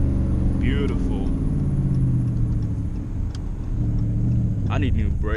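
A loud Dodge Charger drives on backroads, heard from inside the car as a steady engine rumble and road drone that lasts throughout. Brief clicks and rattles occur over the top.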